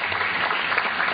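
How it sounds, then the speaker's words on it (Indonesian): Audience applause breaks out for a speaker's answer at a motivational talk, a steady, dense clatter of clapping filling the short moment with no voices over it. "Tepuk tangan dulu untuk jawabannya."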